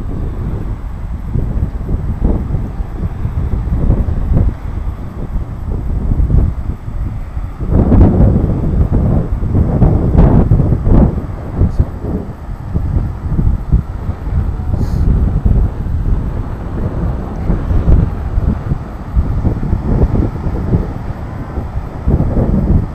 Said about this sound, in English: So, see if you can hear me through the wind here.